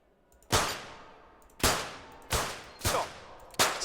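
Five sharp pistol shots from an Olympic rapid fire event at London 2012, fired in an uneven rhythm over about four seconds, each crack loud and close with a short decaying tail.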